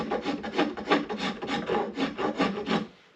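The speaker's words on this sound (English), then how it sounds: "then I hit it with that mouse sander" A mouse sander working a wooden axe handle, heard close and loud as a rhythmic series of about ten rasping strokes that end abruptly.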